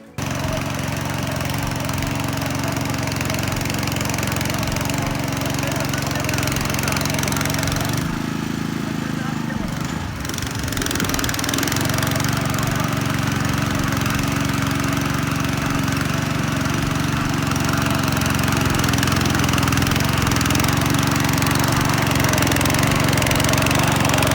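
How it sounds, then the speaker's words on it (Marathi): A tractor engine runs steadily and loudly throughout in a farm field, with a deep, chugging rumble, briefly dipping before resuming at full strength. "आपला ट्रॅक्टर पण उतरवला शेता बाबा इथे"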